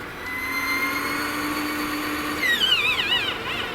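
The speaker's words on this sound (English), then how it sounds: "we're gonna lower the gear and check the other 2 bolts that we just installed first, and then make sure that this all actuates smoothly up and down" Retractable main landing gear on a T-One model aircraft wing being lowered and raised, a steady whining servo or retract motor hum that shifts into wavering, rising and falling pitch near the end, close and moderately loud with no talk.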